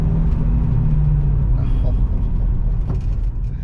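A vintage Audi Quattro drives along, its engine giving a steady low rumble inside the cabin, with a person talking over it.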